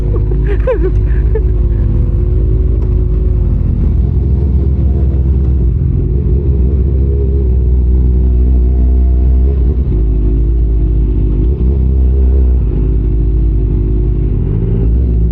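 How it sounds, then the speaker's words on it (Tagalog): Honda CBR1000RR Fireblade SP superbike engine running steadily up close, a loud, continuous low rumble throughout with a brief flutter near the start, no talk over it. "Ang ingay ng motor ko"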